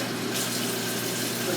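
Tap water pours steadily from a faucet for handwashing, a continuous broadband hiss that stays level throughout with no pauses.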